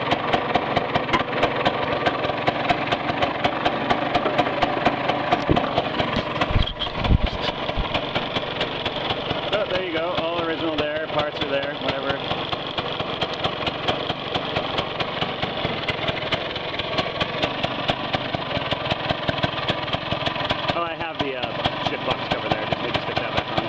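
A 1965 Vespa SS180 Super Sport scooter's small two-stroke engine, still cold, idles with a steady fast rapping putter that holds for a long stretch, with a couple of slight swells in pace.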